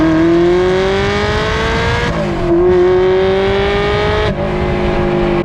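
A manual Ferrari 360's 3.6-liter naturally aspirated V8 revs loud and close toward 8,500 RPM, climbing steadily in pitch, with two brief drops between gears as it keeps pulling upward.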